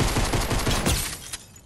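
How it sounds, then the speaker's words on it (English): Rapid bursts of automatic gunfire from a Fortnite match rattle close and loud for about a second before trailing off into quieter scattered shots. "People shooting?"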